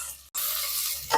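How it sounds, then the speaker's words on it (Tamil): Small onions sizzle and get stirred in a pan while a bitter berry masala is cooked, a brief steady frying hiss broken by one short gap. "வெங்காயம் வதங்கிடுச்சு."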